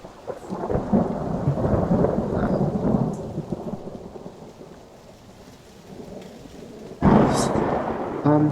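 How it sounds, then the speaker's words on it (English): A loud peal of thunder plays as a tabletop game sound effect, a long rolling rumble over steady rain, dying away before a sharp second crack and a renewed roar. "Everyone hears a loud peal of thunder rip through the sky."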